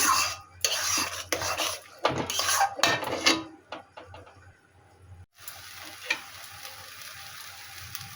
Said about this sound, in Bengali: আরও একটু আস্তে আস্তে নাড়াচাড়া করে এটা একটু শুকনো করে নেব